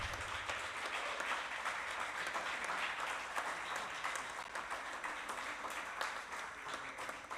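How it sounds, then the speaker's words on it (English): Applause from an awards ceremony audience for the runner-up, a continuous wash of many hands clapping at moderate distance, steady and unbroken for several seconds with no voices over it. "let's also please give a big round of applause for the runner-up, Hombao Suting Long"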